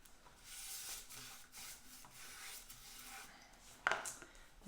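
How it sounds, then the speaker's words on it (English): A cloth rag rubs excess glaze off painted wooden furniture, giving steady soft rubbing strokes close by, with a sharper scrape or knock near the end. "I'm taking my rag and I'm just wiping off the excess."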